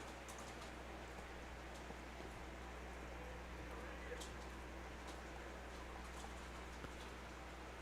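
Steady rain patters down over an outdoor Legion baseball regional elimination game, a faint, continuous hiss with scattered drop ticks throughout.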